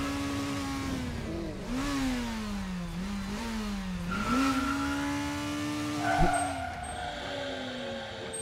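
Kart racing engines in the Smite kart racing mode, a steady whining engine note rising and falling with gear changes, joined by other revving karts and skids, playing continuously at moderate volume.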